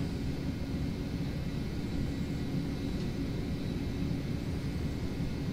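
Airliner engines spool up to takeoff thrust in a flight simulator, making a steady, broad roaring rumble with a faint high whine that stays constant throughout, with no talk.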